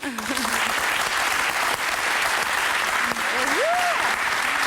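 Audience applause welcoming a volunteer on stage, dense steady clapping from a crowd throughout, with brief vocal sounds rising over it.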